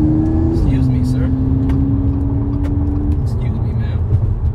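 A supercharged V6 Audi S5 Coupe accelerates with a loud, steady engine drone heard from inside the car, its pitch stepping with gear changes, while muffled voices are faintly present.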